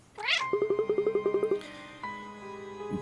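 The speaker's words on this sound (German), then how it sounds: "Warte mal kurz, ich höre Miauzen." A cat in the video game Cat Quest gives a rising meow, then a quick run of about ten short, even chirping meows and a longer drawn-out meow, all loud and close with a steady tonal backdrop.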